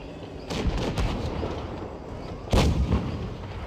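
Tank guns fire in World of Tanks Blitz, two heavy booming shots about two seconds apart, each with a rumbling tail, loud and close, over a low battlefield background.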